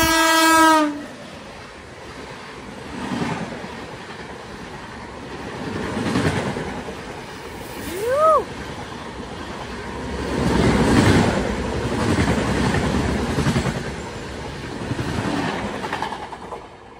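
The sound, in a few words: express train passing at high speed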